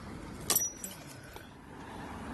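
Car keys jangle in a short metallic burst near the start, followed by a softer clink, close by, over a quiet background hum inside or beside a car.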